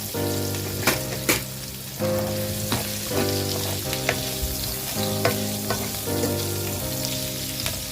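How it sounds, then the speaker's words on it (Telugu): Baby potatoes roast in a pan with turmeric and salt, giving a steady close sizzle and frying hiss broken by several sharp stirring scrapes and knocks of a utensil against the pan. "కాస్తంత పసుపు ఉప్పు కూడా వేసేసి నేను రోస్ట్ చేస్తున్నాను"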